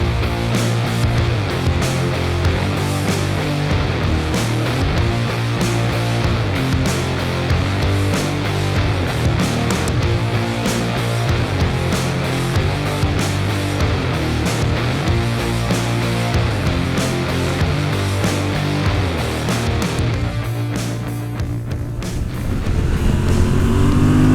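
A Honda adventure motorcycle rides along the road, its engine a loud, continuous drone heard up close for the whole stretch, shifting in tone near the end with no talk over it.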